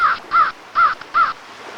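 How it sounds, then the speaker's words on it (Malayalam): A crow caws four times in a quick, evenly spaced series, each call harsh and loud against quiet surroundings. "എവിടെയെങ്കിലും ഒരു കര കാണുമെന്നറിയാൻ അദ്ദേഹം ഒരു കാക്കയെ പറഞ്ഞയച്ചു"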